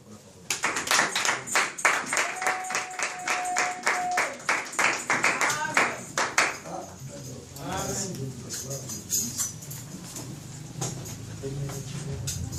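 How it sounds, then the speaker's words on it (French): A church congregation claps together in a dense, fairly rapid burst that holds steady for several seconds, then thins out into scattered voices and murmuring, with a brief sustained tone sounding partway through. "Nous acclamons pour la parole."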